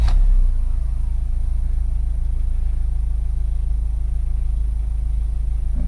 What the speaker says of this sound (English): Okay, so we're in park and we're going to start the car.